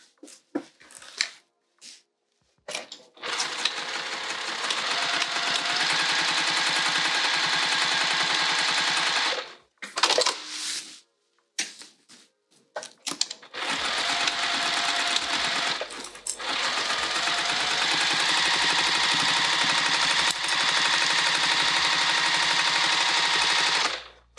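A sewing machine runs in long, loud bursts while lock stitching a bag, with brief stops and short restarts between two sustained runs and no voices.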